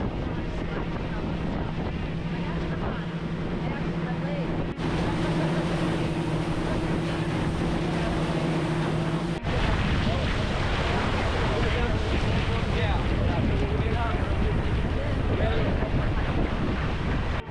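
A small, crowded tour boat running off Roatán, Honduras, in nasty weather, with loud constant wind buffeting and engine drone, broken by a few abrupt shifts in the roar.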